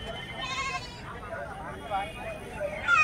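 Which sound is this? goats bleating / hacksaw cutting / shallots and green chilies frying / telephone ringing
goats bleating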